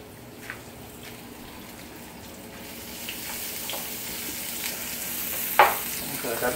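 A small piece of garlic sizzles in hot oil for poblano pepper strips with corn, a steady close frying hiss that slowly swells, with a sharp pop or click near the end.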